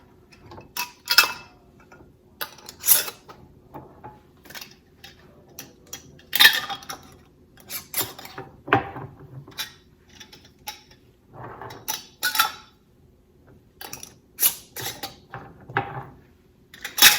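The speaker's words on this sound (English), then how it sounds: "I'm going to get the lids on." New metal lids being fitted and twisted onto glass canning jars of crushed tomatoes: a series of scattered clicks, scrapes and light clinks close by, with short pauses between them and no talking.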